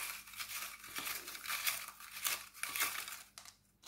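A small slip of paper being drawn and handled, close crinkling and rustling in irregular bursts over a few seconds, with no talk.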